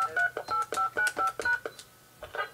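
Telephone keypad tones from a regular landline phone dialing into a conference line, about ten quick evenly spaced beeps followed by a short pause and one more tone, loud and clear with no talking.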